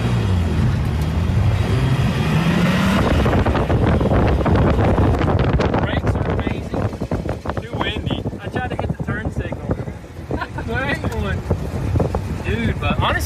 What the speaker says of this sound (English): So, first BMW test drive right there